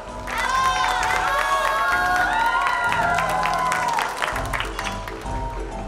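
A circus audience claps and cheers for the police chief, a loud, sustained burst of applause and crowd voices mixed with bright music that carries on for several seconds.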